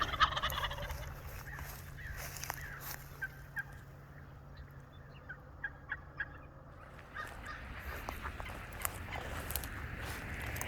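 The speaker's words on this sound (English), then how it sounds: "Never seen so many turkeys before in one place." Flock of wild turkeys with several strutting toms, gobbles and clucks scattered through the clip over a steady low outdoor rumble, some calls fairly close, others more distant.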